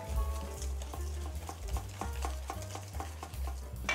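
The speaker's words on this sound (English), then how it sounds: "So let's just mix our egg yolks into the flour mixture." A Thermomix blending egg yolks into a cooked flour mixture for choux pastry, a low steady motor hum under a run of regular soft ticking knocks from the stirring, fairly quiet.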